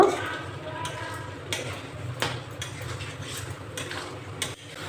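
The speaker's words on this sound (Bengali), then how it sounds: "আলুটা দিয়ে আমি একটু নাড়াচাড়া করে নিয়েছি" Fried potatoes are turned into a cooked spice paste for veg biryani, giving soft stirring scrapes and clinks from a spoon against the pan over a faint background sizzle.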